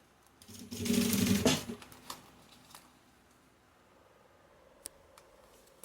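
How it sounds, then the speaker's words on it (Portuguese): A sewing machine stitches a waterproof fabric roll-up pouch along a marked line, a fairly loud whirring burst of about a second that stops, followed by faint handling clicks and a sharp tick in a quiet room. "Costurei tudo, ó. Rentinho aqui, ó, tá vendo, ó? Tudo rentinho."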